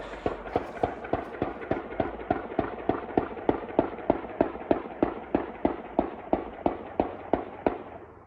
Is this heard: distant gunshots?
yes